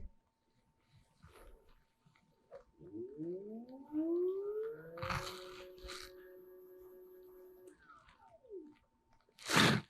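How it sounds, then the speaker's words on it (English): A WingMods Wev kit motor spins up from rest, its whine rising in a smooth sweep and holding steady for several seconds before winding down, with a few clicks and knocks around it. "So our motor was actually spinning backwards"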